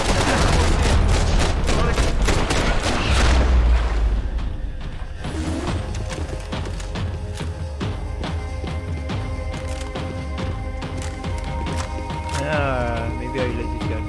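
Gunfire in Max Payne 3 opens with a loud, dense volley of rapid shots for several seconds, then thins into scattered cracks and thuds over a sustained game soundtrack and ambience.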